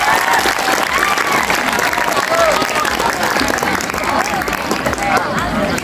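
A school audience at an SMP gathering claps loudly and steadily, dense hand-clapping from many people close by with a murmur of voices underneath, holding throughout.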